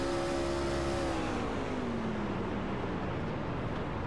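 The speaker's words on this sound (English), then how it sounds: "You hear that engine go dead silent, and he didn't pick it up till the center of the turn" A race truck's engine drones steadily at trackside, its tone sliding downward as the driver lifts off to save fuel through a turn, loud and continuous with no voices.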